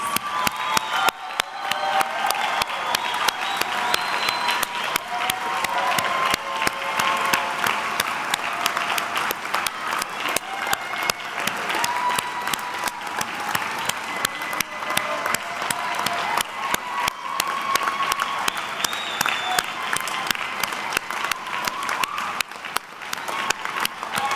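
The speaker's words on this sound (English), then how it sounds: "I invite all those in the audience to join me in applauding your success" A large commencement crowd applauds the graduates in a long, steady roar of clapping that holds for over twenty seconds, dotted with scattered cheers and whoops throughout.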